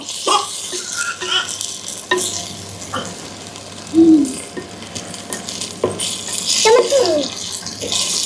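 Cut onions fry in a pan for a village-style tomato rice and are stirred with scrapes and knocks over a soft sizzle, with a few louder stirring bursts.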